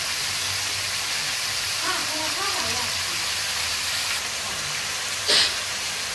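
Potatoes and tomato frying in a pan with spices, a steady loud sizzling hiss throughout, with a voice speaking over it briefly.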